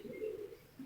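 A record-bred flying pigeon gives a soft, low coo, a brief, faint murmuring call heard alone.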